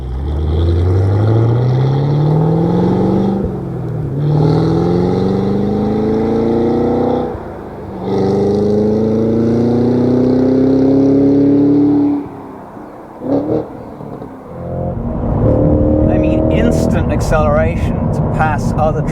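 A Cadillac CT5-V Blackwing accelerates hard on a public road, its engine note climbing through several gears with brief pauses at the shifts, loud and close from inside the cabin, before a lift-off and a renewed surge while someone talks over it.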